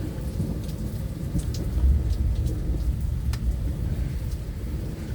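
A thunderstorm in Michigan, with heavy rain pouring steadily and deep thunder rumbling throughout, loud and close, with no voices.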